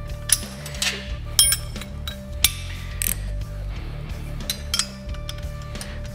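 Half-inch lock nuts are run onto the bolts of an engine cradle with a ratchet, giving close, clicking ratchet pawl bursts and metallic clinks in short irregular spurts.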